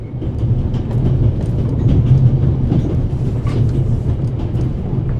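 Orient Express passenger train from The Raven game rolling steadily along the Paris to Istanbul route, a continuous loud low rumble with faint clickety-clack of wheels over rail joints throughout, no talk.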